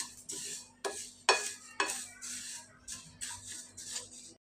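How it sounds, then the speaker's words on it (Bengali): Cumin seeds dry roasting in a pan over low heat, stirred with a utensil: about eight rhythmic scraping strokes, close and distinct, each rising and fading against a quiet background. "এই যে আমি জিরাটা অল্প আগুনে ভেজে নিচ্ছি"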